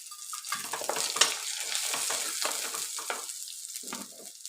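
Curry leaves and green chillies sizzle and crackle in hot oil, with dense spitting bursts throughout and a brief metallic clink near the start, close up and with no talking.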